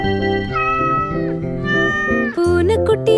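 A kitten meows in a Tamil children's nursery rhyme, with cartoonish meows over a bright, steady melody in the background.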